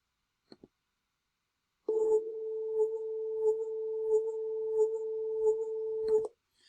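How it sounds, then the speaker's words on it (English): A steady electronic tone processed with a wah-wah effect in Audacity, a faint rhythmic pulsing sweep, starting abruptly after two small clicks and cutting off just as suddenly, no voices. "Let's try a wah-wah"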